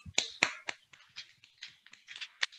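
Hand clapping in a Mumbai college hall as fingers strike the palm, with a few loud, sharp claps followed by a quicker run of lighter, softer claps.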